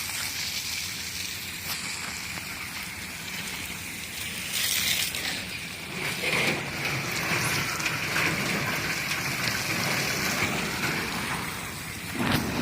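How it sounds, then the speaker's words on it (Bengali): An artificial rain sprinkler system sprays water over a poultry farm shed, making a loud, continuous rushing hiss that swells and surges at times, with no one speaking. "কৃত্রিম বৃষ্টি করলে আপনার তাপমাত্রা কমে যাবে, হিট কমে যাবে"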